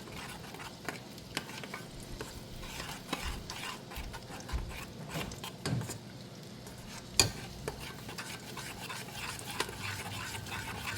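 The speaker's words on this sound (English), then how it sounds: "Mix it according to your consistency, how watery you want." A spoon stirs sathumavu health mix drink in a vessel, making soft, repeated scraping and clinking strokes at a steady rhythm. The sounds are close but quiet, with one sharper clink partway through.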